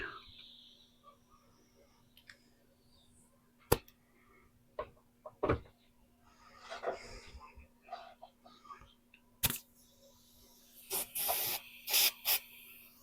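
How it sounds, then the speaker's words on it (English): Short, sharp hissing bursts of spray come and go irregularly, some brief and some longer, growing more frequent toward the end, with scattered clicks between. "Spray the water out of there."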